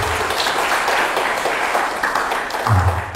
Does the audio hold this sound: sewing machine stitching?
no